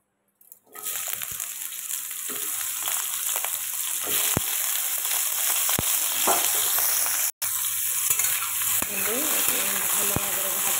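Drumsticks, potatoes and eggplant frying in a little hot oil in a kadai, a steady bright sizzle with occasional clicks and stirring scrapes, and faint speech underneath.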